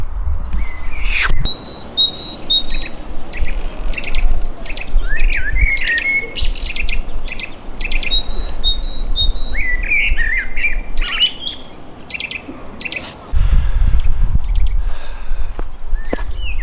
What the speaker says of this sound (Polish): A wy w międzyczasie możecie posłuchać, jak ptaszki ćwierkają